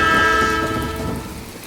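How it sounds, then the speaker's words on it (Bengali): A train horn blares in steady sustained tones over heavy rain at Sealdah station's deserted, foggy platform, loud and close at first, then easing slightly as it holds. "এদিকে ট্রেনের হর্ন বেজে উঠল।"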